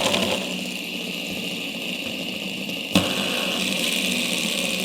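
A spinning hologram pop-it fidget toy giving off a steady motor-like whir, close and even, with a single sharp tap partway through.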